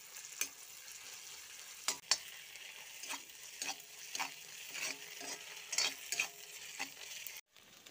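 Garlic and ginger are stir-fried in a pan, with a quiet sizzle under repeated scraping strokes of a spatula at an uneven rhythm, close by.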